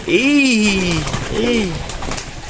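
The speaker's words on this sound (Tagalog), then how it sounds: "At ako'y magpaparod na muna ng ibon guys." Racing pigeons being released at a derby, with two clear rising-and-falling whistling calls close by over a faint background murmur.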